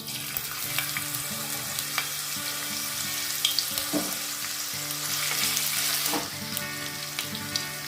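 Chopped ginger frying in refined oil in a hot pan gives a steady, close sizzle with occasional crackles and stirring scrapes over a low constant hum.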